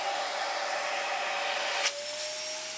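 A Panasonic MC-CG917 Opti Flow canister vacuum cleaner runs steadily with a high, airy whine, and its pitch shifts slightly as the suction changes partway through; nobody talks.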